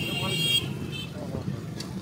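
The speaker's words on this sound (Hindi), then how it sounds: "लेकिन हॉर्न बज रहे हैं, शोर मच रहे हैं" Horns toot amid light motorbike and car traffic in a Sialkot bazaar, a short high honk near the start then fainter beeps over a rumbling street background while a person talks.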